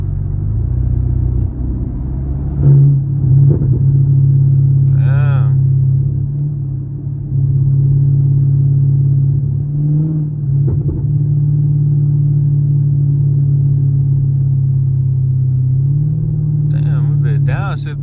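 A Chevrolet Camaro SS on a night drive rumbles steadily from inside the car, with the engine note dipping and rising as it downshifts by itself, and a few brief bursts of other sounds along the way.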